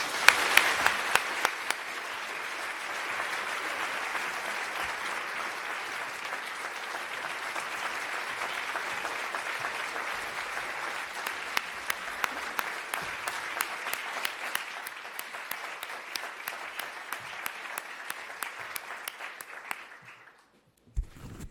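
Sustained audience applause at the London School of Economics greets Ursula von der Leyen, President of the European Commission, a steady dense clapping that runs for about twenty seconds before tapering into individual claps and fading out.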